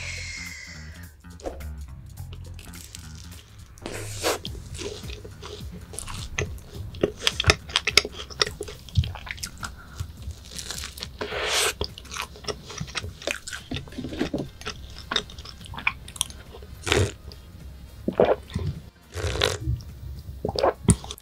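Biting and chewing a croissant during a dessert mukbang, with close, crisp crackles and crunches at irregular intervals over wet mouth sounds, loud and near with no talking.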